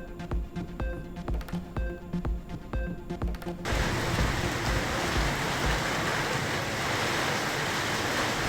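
Widespread rain falling in Chengam, Tiruvannamalai district, and Kangeyam, Tiruppur district: after a few seconds of rhythmic music, a dense, loud, steady hiss of rainfall takes over and continues without talk.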